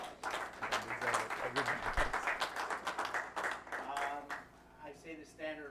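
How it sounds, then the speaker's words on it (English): Applause for an organizer at a snooker championship, a lively stretch of crowd clapping mixed with voices talking and calling out over it, tapering toward the end as speech takes over. "let's give him some applause."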